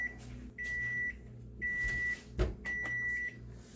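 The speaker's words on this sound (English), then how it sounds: "Okay, timer went off." An electronic kitchen timer beeps in three long steady tones separated by pauses while bread bakes in a home oven, loud and close with a brief clunk between.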